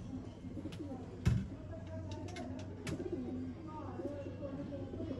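Sialkoti and Teddy breeder pigeons coo softly and intermittently at close range, with a faint rolling murmur under someone talking, plus a brief louder thump.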